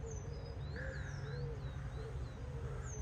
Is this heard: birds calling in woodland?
yes